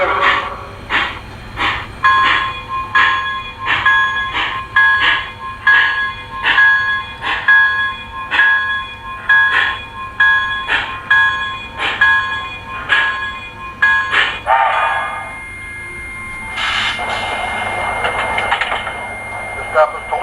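MTH HO gauge models of the New York Central L-4A 3117 'Mohawk' and J-3A 5452 'Hudson' steam locomotives run with an evenly spaced, ringing electronic bell that repeats many times, followed by a voice making station-style announcements over faint running hum.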